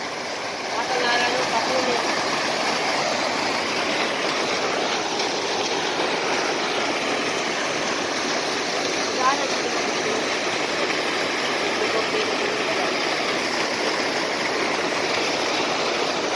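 Waterfall at Laguna pouring in a steady, loud broadband rush, continuous and close throughout with no pauses.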